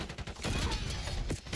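Rapid bursts of gunfire and explosions from Black Ops 7 gameplay, dense overlapping blasts filling the whole moment with loud, rattling shots and booms.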